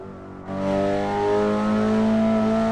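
Race car engine in the Assetto Corsa driving game on the Nürburgring, a track-prepared car revving up sharply and holding a loud, strongly tonal engine drone with steadily climbing pitch.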